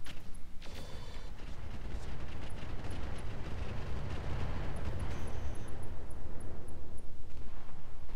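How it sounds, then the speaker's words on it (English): Mech rocket launchers fire in a Roguetech battle, heard as a dense, rumbling salvo of rapid launches and blasts that builds into a sustained, pulsing roar. "we're going to use the rocket launchers on this one"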